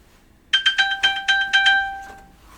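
A misplaced smartphone, set ringing remotely from a smartwatch, plays a short bright chiming melody of about eight quick tones that ends in a fading ring, with no talking.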